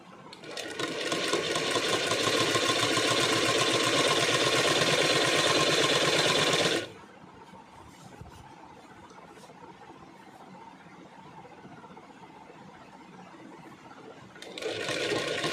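Sewing machine stitching a folded hem on cotton than fabric for a full patiala salwar, running loud and steady for about seven seconds, then stopping, with a brief restart near the end.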